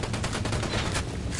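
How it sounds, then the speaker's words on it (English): Rapid bursts of automatic gunfire in the Ghost Recon video game crackle in a dense, continuous volley, with overlapping shots from several weapons at moderate loudness. "Opening fire on these fuckers."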